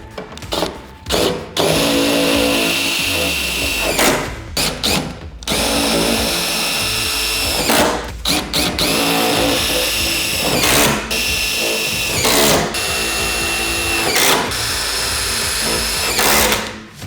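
A power drill drives stainless steel screws into aluminum on a Ford Transit Connect ladder rack install, whirring loudly in repeated bursts of a second or two with short pauses between them, close up and without talk.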